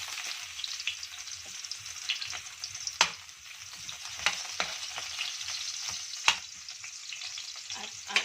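Minced ginger and garlic frying in hot oil for chicken feet adobo, a steady bright sizzle with occasional sharp crackles and stirring clicks, close up and alone without voices.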